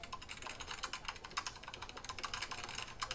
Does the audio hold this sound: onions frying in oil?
no